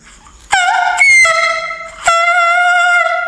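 Clarinet sounding sustained, reedy tones, with a bright harmonic note held, briefly broken off near one second and two seconds, then resumed steadily and fairly loud.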